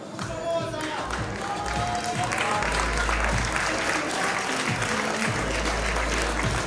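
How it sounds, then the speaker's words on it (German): Audience applause at the NABBA Austrian bodybuilding championship 2022, a sustained crowd of clapping and some cheering in a large hall, with an announcer's voice and a throbbing bass beat of music running beneath. "großen Applaus für diese entzückende Damenklasse"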